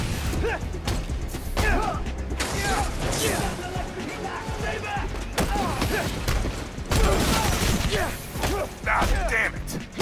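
Bursts of gunfire aimed at Spider-Man in the game Spider-Man: Miles Morales ring out in a dense, busy battle mix with crashes, thuds and whooshes, with shouted voices throughout.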